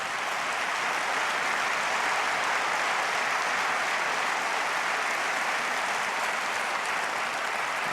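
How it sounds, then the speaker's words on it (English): An audience claps in a steady, dense wash of applause for a boy named Lance, even and continuous throughout with no distinct individual claps standing out. "will you give a round of applause to my son"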